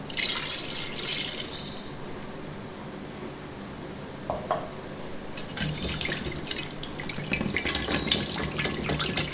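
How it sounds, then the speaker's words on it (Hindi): One cup of milk is poured into a bowl while making Punjabi Amritsari lassi, giving a soft, steady trickling and dripping liquid sound that swells louder toward the end. "दूध डालूंगी मैं 1 कप।"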